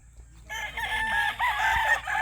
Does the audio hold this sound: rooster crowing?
yes